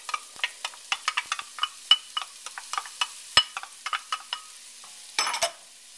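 Peppers going into hot olive oil in a soup pot, heard as a scatter of sharp close crackles and pops with a brief hissing burst near the end, no voices.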